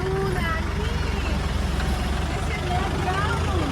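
A Maruti 800 car fitted with a replacement Mahindra engine idles with a constant low rumble while people talk over it.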